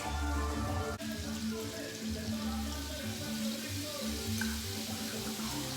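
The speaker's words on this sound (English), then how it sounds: "as the meat is browning up, I'm gonna put some of this taco seasoning" Ground beef for taco salad browning in a pan, a continuous close crackling sizzle with a rain-like patter and a low steady hum.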